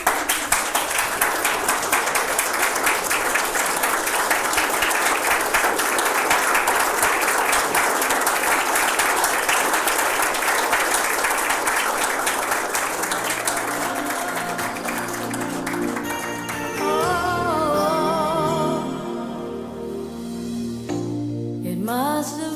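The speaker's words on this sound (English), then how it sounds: "That dash deserves a standing ovation and a round of applause." A memorial service crowd gives a long, sustained round of applause, dense and steady for about fifteen seconds before it thins out as music begins to play.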